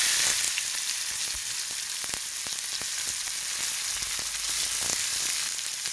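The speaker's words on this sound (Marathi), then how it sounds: "छान होईपर्यंत हलवून घ्यावे." Finely chopped onion sizzles steadily in a hot pan as it is stirred, a dense, even hiss with faint scrapes underneath, close and fairly loud.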